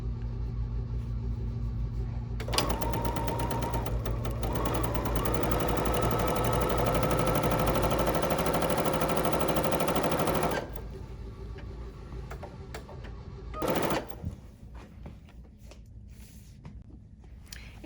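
Sewing machine stitching an embroidered pumpkin wall hanging runs in a loud, close, steady mechanical chatter for about eight seconds, then stops, with a short second burst and quieter handling noises afterward.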